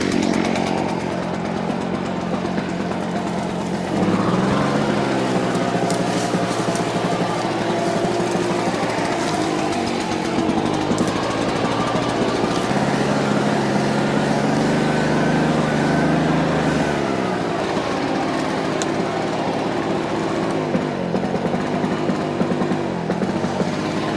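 A cheap Chinese mid-size two-stroke generator engine runs continuously and loudly up close, a raspy buzzing drone whose pitch shifts and surges as the load and throttle change.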